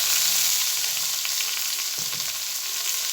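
Onions and meat frying in a pot for Egyptian kebab hala, a loud, continuous close sizzle with a faint stir or scrape partway through.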